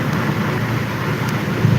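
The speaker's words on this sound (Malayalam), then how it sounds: "ഇപ്പോൾ ഇടിയോടുകൂടിയ മഴ നടക്കുകയാണ്" Continuous heavy rain roars with a low rumbling undertone of thunder at Parassinikadavu, Kannur, dense and close throughout, with no voices.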